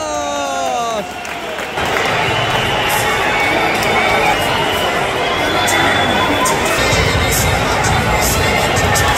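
A stadium crowd greets Real Madrid warming up, with loud, continuous cheering and applause from a distance filling the space, and a voice talking close by over the noise.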